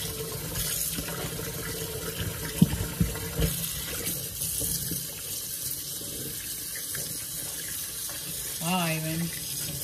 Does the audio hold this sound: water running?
yes